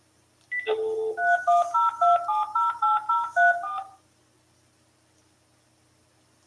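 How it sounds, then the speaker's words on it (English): Touch-tone dialing on a phone: a quick run of about a dozen close, clear beeps in steady rhythm, heard alone with no talking. "I'm calling Barry Taff right now, just for a second"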